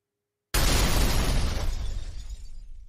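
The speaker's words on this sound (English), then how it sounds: "I actually need a real explosion." A heavy stock explosion sound effect from a sound library bursts in after half a second of silence, a loud sharp blast with shattering debris that rumbles and slowly decays.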